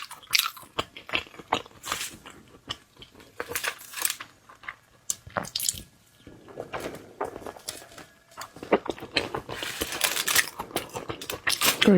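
Close, crisp bites and moist crunchy chewing of big shrimp and seafood come in uneven bursts over a quiet background, some sharp and loud, others soft.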